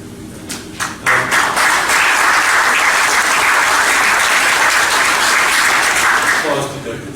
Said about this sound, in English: Applause to Doug.